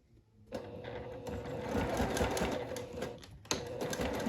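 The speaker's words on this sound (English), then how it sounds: "sew the front of the placket to the front of the bodice" Sewing machine running steadily as it stitches a garment placket to the front of a bodice, about 1/2 inch from the edge over a basting line, with a brief pause near the end before the motor starts again.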